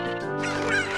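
Cucco chickens in the video game The Legend of Zelda: Ocarina of Time (Master Quest) cluck and squawk loudly at Lon Lon Ranch, a short burst of harsh fowl cries heard alone.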